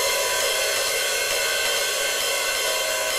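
A drum-kit cymbal is played continuously with a sustained bright, hissing wash, loud and close, with no talking.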